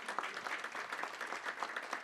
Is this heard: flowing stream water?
no